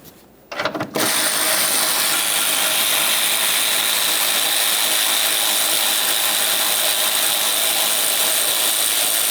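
Ratchet wrench clicking rapidly and continuously while backing out a 10mm mounting nut on the 3.5L V6 engine of a Toyota Sienna, close and loud after a brief initial knock.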